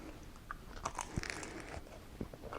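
Someone chews a dense homemade pub-style pretzel stick, with close, crisp crunching bites and soft chewing spread irregularly throughout, no voices.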